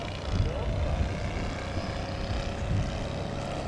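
A PWS-26 model airplane, an F4G-class scale replica of the Polish trainer, drones steadily through the flight with a continuous engine buzz, moderately loud against a broad outdoor noise bed.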